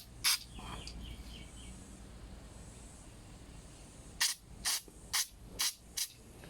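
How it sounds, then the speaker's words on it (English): Short bursts of carb cleaner spray into the carburetor of a Honda GX25 blower; one hiss opens, then after a pause five quick sprays follow in a fairly even rhythm, close and crisp over faint background noise. "when you apply this carb cleaner through that tiny hole there, we should be able to see that cleaner going through the check valve"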